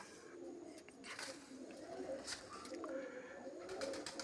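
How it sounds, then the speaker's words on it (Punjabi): Soft, low cooing of pigeons rolls on continuously, with faint chirps and light rustling in a quiet setting. "ਇਹ ਭਰਾਵੋ ਆਪਣੇ ਕਬੂਤਰ ਆ"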